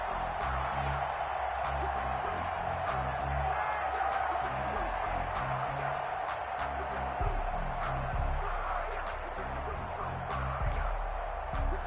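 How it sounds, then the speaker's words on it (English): A football stadium crowd roars and cheers during a Panthers vs Lions game ahead of a big third down, a broad, sustained distant wash of noise with commentators talking over it. "The crowd getting into it as we come up on a big 3rd down"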